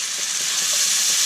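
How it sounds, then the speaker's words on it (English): Garlic and onions fry in a pan as they are stirred, producing a loud, dense, continuous sizzle for a brief moment with no talk. "because we don't want to burn the garlic. Go ahead and mix all that together."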